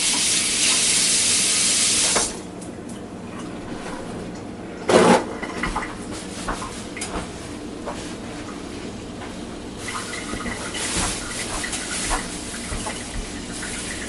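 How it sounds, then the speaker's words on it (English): Steady sizzling of bacon frying in a pan, hissing throughout with a few clinks and stirring noises, no voices. "the bacon's starting to sizzle"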